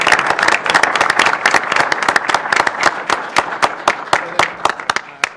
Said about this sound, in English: yeah, please, round of applause.